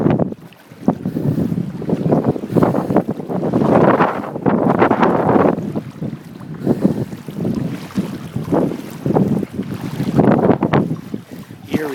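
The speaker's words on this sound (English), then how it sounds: "All you hear is generators, wind." Strong wind gusts across the microphone in a storm-damaged neighborhood of Point Pleasant, New Jersey, after Hurricane Sandy, with a steady low rumble fitting generators running underneath. No talking.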